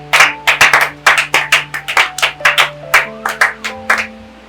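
Church congregation clapping hands in a steady rhythmic beat to acclaim the Lord, about a dozen crisp, evenly spaced claps ringing out clearly over a faint sustained background tone, with no talking.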